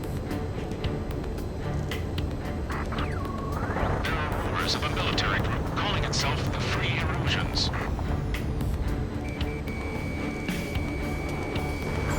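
A dense, continuous roar of helicopter rotor and engine noise in the video game Ace Combat 7: Skies Unknown, with booming blasts and a rising electronic tone, loud and steady throughout.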